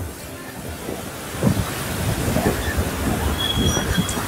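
Sea waves wash onto a beach at Kilakarai, a steady wind-blown surf roar with soft rolling surges, close and fairly loud, with no clear talk over it.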